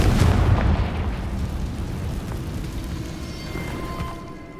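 Fiery Confringo blast spells in Hogwarts Legacy, a loud booming burst up front that rolls into a sustained rumbling roar and slowly fades, with no talk.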